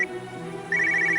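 A telephone ringtone sounds in a Tamil TV drama scene as police call about a beach station matter; a steady electronic ring starts partway through, loud and clear over a low room hum, with no talk.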